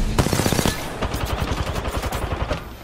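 Rapid automatic gunfire in the video game Apex Legends, a close, loud burst followed by a longer stream of evenly spaced shots, with fainter distant firing underneath.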